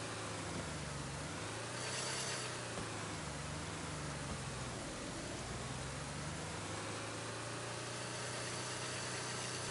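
A car engine idles steadily and fairly loud throughout, a low continuous rumble with some vibration and broadband noise, without talk.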